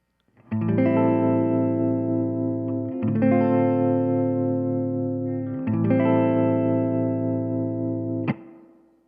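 Three held electric guitar chords swell with a soft, even tremolo pulsing, each ringing several seconds before a final brief strum and decay.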